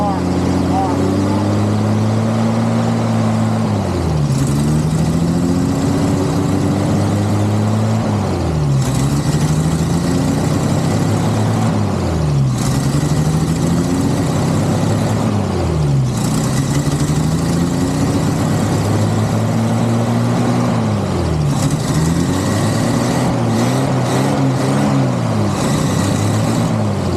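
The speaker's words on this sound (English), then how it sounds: "Bring the RPM up as high as you can, slowly." Military M715 truck engine with a Holley carburetor, loud and close, revved repeatedly in slow rising sweeps that drop back to idle. Voices talk over the engine now and then.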